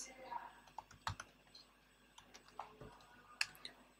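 Keystrokes tapped on a Mac computer keyboard while entering a terminal command, scattered quiet clicks in an irregular rhythm with no talking over them.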